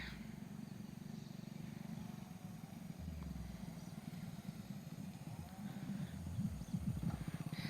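A motorcycle ridden by a beginner rider approaches from a distance, its steady low engine drone running throughout and growing slightly louder and more rhythmic near the end.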